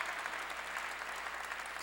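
A church congregation claps together in steady, dense applause that runs at an even level throughout, with no voices rising above it.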